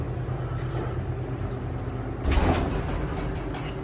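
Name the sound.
KONE hydraulic elevator door closing at Macy's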